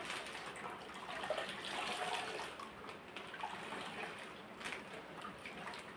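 Water streams out of a cloth bag of wheat pulp being wrung by hand while making wheat kurdai, a faint, continuous splashing trickle into a vessel with slight swells, no talk.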